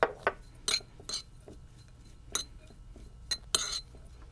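Shredded mozzarella, minced garlic and dried basil mixed in a bowl, with a handful of clinking utensil strikes against the dish at irregular intervals, close and fairly crisp, over a quiet background.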